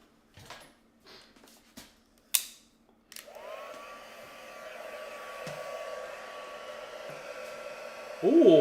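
A heat tool switches on and hums steadily while drying mica-tinted craft paste, a constant whirring blow following a few clicks and knocks of handling, growing louder toward the end.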